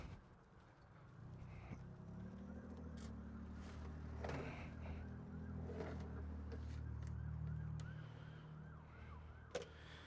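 Sirens wail faintly in the distance, rising and falling over a steady low rumble of traffic.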